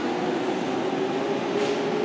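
A train rumbles at a platform in Akihabara Station, Tokyo, after its doors close, giving a steady low mechanical drone with a faint tone running through it. A brief higher hiss rises near the end.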